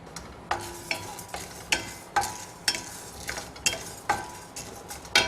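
Urad dal and chana dal dry roasting in a pan for thinai idli milagai powder, stirred in a steady rhythm of sharp scraping strokes about every half second, close and clear with no talking.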